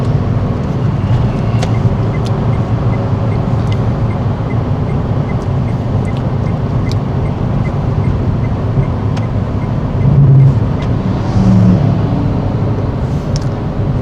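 A low-horsepower car accelerates at full throttle in fourth gear at around 90 km/h on a race track, a loud continuous engine drone with road noise and faint clicks throughout, without speech.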